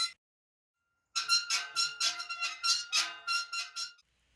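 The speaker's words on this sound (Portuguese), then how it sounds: "Esse som é o som do rangido metálico." Processed metallic creaking sample played in a sampler with modulation and delay, a string of squeaky, tonal bursts in quick succession that rise and fall for about three seconds after a short silence.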